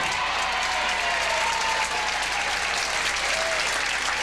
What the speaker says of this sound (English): The crowd goes nuts as she strikes there.